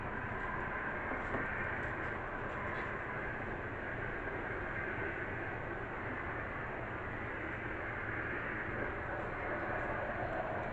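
Steady, continuous rumble with a faint whirring hiss as an HO scale model train runs on a layout nearby without pause for the whole stretch.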